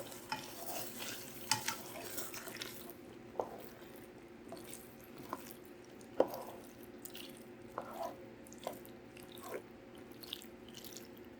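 Chicken bacon ranch mixture with Velveeta being stirred in a skillet, quiet wet scrapes and squelches repeating at an uneven rhythm over a low simmer, close and alone.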